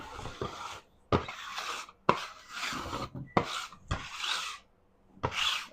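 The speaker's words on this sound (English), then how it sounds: "Get the old bench scraper out." A bench scraper rasps across thin-crust pizza dough on a work surface in about six short, close scraping strokes separated by brief pauses.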